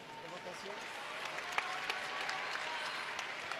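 Crowd applause fills a gymnastics arena at the 2012 London Olympic test event, a steady distant wash of clapping with a few sharper claps standing out and a voice faintly over it.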